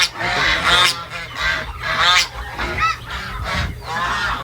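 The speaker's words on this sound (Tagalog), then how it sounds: "Yung mga gansang imported dito mga idol. Laki oh. Laki nila." Large imported geese honk loudly and repeatedly at close range, several birds overlapping in a noisy, irregular chorus that fills the whole stretch.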